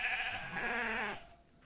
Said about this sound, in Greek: Φωνέ προβάτων εστίν.